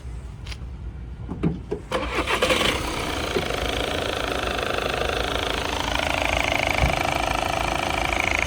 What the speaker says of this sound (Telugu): సింగిల్ సెల్ఫ్లో బండి స్టార్ట్ అయిపోయింది